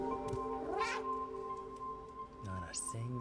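Cat meows from the video game Stray, a couple of rising, harmonic cries over steady game music with a low droning background, fairly close and clear.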